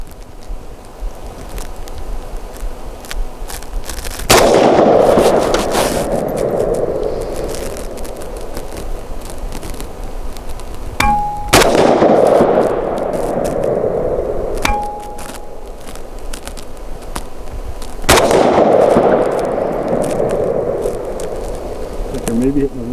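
Three sharp rifle shots from a WBP Fox, fired from a tripod at a shooting range, crack out about seven seconds apart, each followed by a long fading echo over quiet outdoor background.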